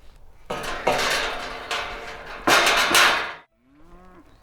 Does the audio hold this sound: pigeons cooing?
no